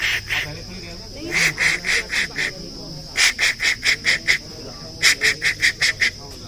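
A person imitates the call of a bird called the karol with rapid bursts of shrill, whistled pulses, delivered in three quick trains of six to eight notes each over a steady background hiss.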